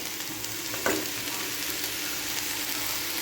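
Banana flower and drumstick leaf stir-fry with ground roasted peanuts being stirred in a pan, a steady sizzle with a single scrape of the spoon near the start.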